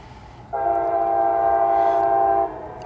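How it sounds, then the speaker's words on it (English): A loud, sustained freight train horn blasts steadily for about two seconds, close by, over a low rumble of rail noise, as the train comes out of a steel mill. "This is the Middletown Special coming out of the Cleveland Cliffs Steel Mill."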